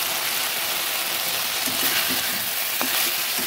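A spoon stirs katla fish curry with green banana in a pan, bringing a loud, steady sizzle and bubbling close up, with a few scraping stir sounds partway through.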